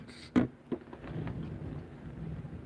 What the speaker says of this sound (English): It's thundering and lightning in Tucson, Arizona.